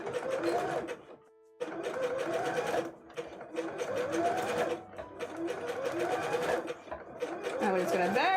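A sewing machine stitches a Eurovision outfit in short bursts, its fast rattling whir stopping and restarting several times at close range, with a voice talking between and over the runs.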